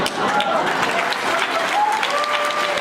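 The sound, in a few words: audience applause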